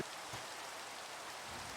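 Steady rain falls continuously in Minecraft, a soft even hiss of drops with no other sounds.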